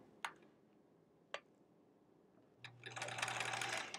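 A home sewing machine stitching a quilt block seam. A few isolated ticks and clicks come first, then the motor starts with a low hum and a fast, steady rattling whir, close and moderately loud.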